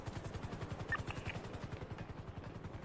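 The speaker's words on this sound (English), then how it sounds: "I see one heli." A video game helicopter's rotor thumps in a steady rapid pulse, fairly quiet and continuous, with a few faint electronic tones briefly overhead.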